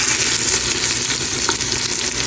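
Chicken and onion fry together for a kabsa, producing a loud dense hiss of sizzling oil that runs steadily throughout at close range, without talk.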